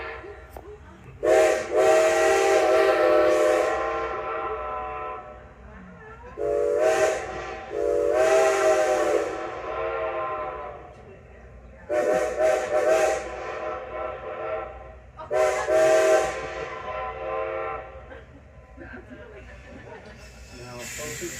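A steam locomotive whistle on the Strasburg Railroad blows in four long, loud harmonic blasts separated by pauses, each fading out, with a quieter echoing tone between them.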